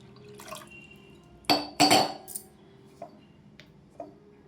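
A glass of water tipped into a cup of curd in a kitchen bowl: a couple of brief, close splashes in the middle, followed by a few faint clinks and drips.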